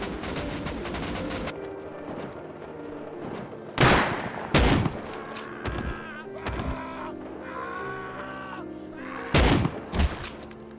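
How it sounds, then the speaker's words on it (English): Pump shotgun blasts in the survival game Rust: three loud, sharp reports spaced several seconds apart, each followed by mechanical pump-action clatter, over a busy game soundscape. "The more practical upgrade is the pump shotgun, the most powerful shotgun as of now."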